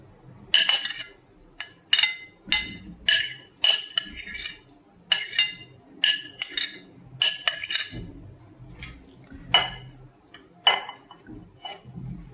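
A spoon stirring grated beetroot into yogurt in a bowl for a beet salad, with about twenty sharp, close metallic clinks in a steady rhythm and quiet pauses between strokes.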